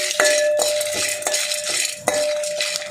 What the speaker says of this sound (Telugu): పల్లీలు అయితే వేసినండి కొన్ని పచ్చెనగపప్పు ఎండుమిర్చి వేయించుకోవాలండి